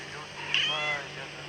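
A mother cat gives a single drawn-out meow close by, rising and falling over a low steady hum.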